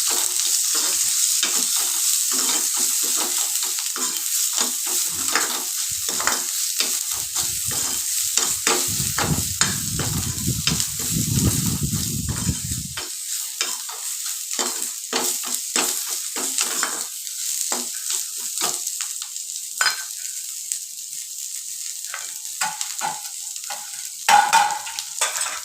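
Young pirandai (adamant creeper) shoots, peeled, are stir-fried in oil in a pan, giving a steady, close sizzle with frequent scraping stirs throughout and no talking.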